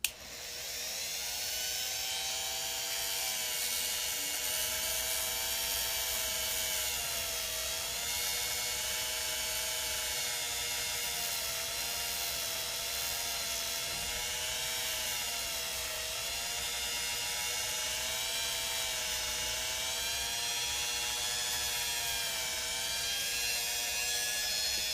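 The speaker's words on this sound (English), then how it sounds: "when using a Dremel, you know, it's obviously generating friction, which generates heat" A Dremel rotary tool whines steadily for about twenty-five seconds, its high-pitched motor tone wavering slightly in speed as it works, close and continuous with no talking.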